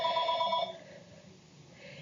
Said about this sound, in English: that's a telephone ringing.